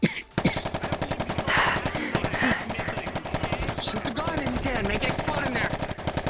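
Rapid bursts of automatic gunfire rattle almost continuously during a VR roleplay game, loud and close, with voices talking over the shots.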